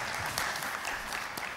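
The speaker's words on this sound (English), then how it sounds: "they deserve a much louder volume of applause from you" An audience at a product development and innovation session applauds its panelists, a continuous wash of clapping at moderate volume.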